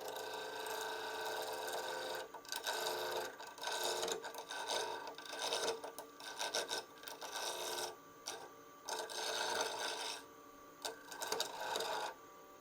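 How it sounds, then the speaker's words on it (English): Skew chisel taking a peeling cut on mountain mahogany spinning on a lathe, a close, steady rasping scrape broken into bursts with short pauses between passes. "I'm just going to use a skew for a peeling cut."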